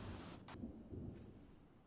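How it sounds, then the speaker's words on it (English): Rain falls steadily in a Sims 3 game scene while a soft roll of thunder rumbles beneath it, faint and distant, with no voices. "It's raining out here, let me in."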